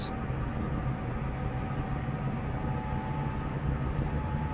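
Halo Pelican dropship thrusters spool up inside Microsoft Flight Simulator, a continuous loud rumbling roar with a faint steady whine on top, unbroken throughout.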